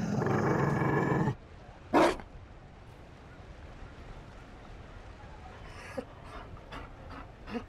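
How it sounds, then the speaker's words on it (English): A Mabari dog in the Dragon Age: Inquisition video game gives a loud close snort or bark after a burst of noise, followed by quiet panting and soft breathy growls against a low hush. "You found a dog?"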